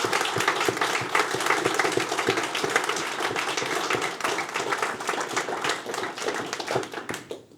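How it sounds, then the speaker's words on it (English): Audience applause for speakers at a community meeting on Cuba, dense and close clapping from a room of people that holds steady and then begins to thin out at the end. "a big round of applause."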